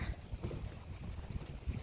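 Steady wind blowing outdoors beside a lake in a Finnish forest, a continuous low rushing and buffeting over the microphone with no speech.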